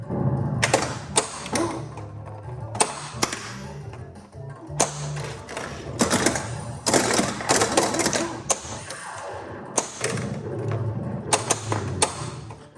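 An Addams Family Gold pinball machine in play, with sharp mechanical clacks of flippers and bumpers, rolling ball rumble and frequent thuds scattered irregularly over a steady electronic backdrop, close and fairly loud.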